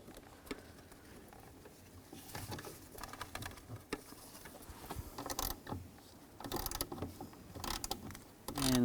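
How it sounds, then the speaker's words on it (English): A hand ratchet clicks in quick, uneven bursts while loosening a nut under the dash of a 2000-06 GMC Yukon during hood release cable replacement, close and fairly quiet with metallic rattling. "I'm gonna take this nut off."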